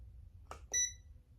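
Microwave set to the beverage setting while heating milk and water for dinner rolls, giving a short bright electronic beep after a brief click, close by and alone.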